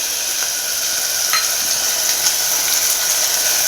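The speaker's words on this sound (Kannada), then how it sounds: "ಸ್ವಲ್ಪ ಚೆನ್ನಾಗಿ ಫ್ರೈ ಆಗಲಿ" Food frying in a hot pan in a home kitchen, a steady, loud, close hiss of sizzling oil with a few faint scrapes of stirring, and no talking.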